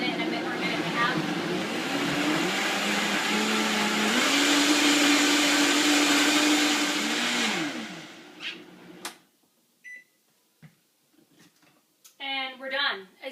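A blender on high speed whirs loudly and steadily while blending a creamy green smoothie, its pitch shifting as the speed rises, then cuts off near the eight-second mark; brief clatter and a few words follow.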